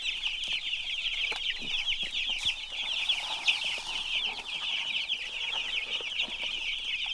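Many Cornish Cross chickens cluck and chatter continuously, a dense flock sound close by with no talking.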